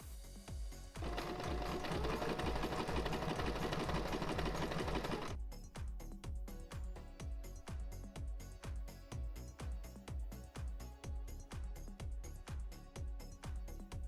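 A sewing machine top-stitches the side seam of a jacket, first in a dense continuous run, then in a quick steady train of rhythmic stitch clicks close by.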